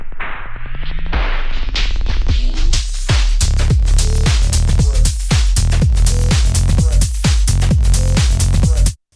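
A DJ loop plays back with master tempo off, a sped-up, pitch-shifted house track with punchy repeated hits and sweeping swishes, loud and dense, cutting off abruptly at the end.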